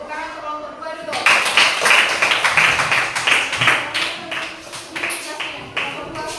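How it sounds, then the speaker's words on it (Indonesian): Applause for a student group after its presentation in a classroom, a dense run of many hands clapping that starts abruptly and stays loud and steady, with voices talking over it. "Dan tepuk tangan untuk kelompok 2 dulu."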